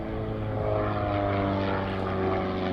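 A propeller airplane flies in an airshow comedy act, its engine giving a steady, loud, droning hum for nearly three seconds, with no one talking.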